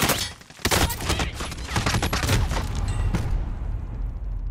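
Rapid gunfire rattles in Call of Duty Warzone, loud overlapping bursts of close shots and cracks that thin out into a rumbling tail.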